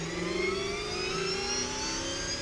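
A car pulls away with a steady, rising engine hum that holds at an even, moderate level throughout, with no voices.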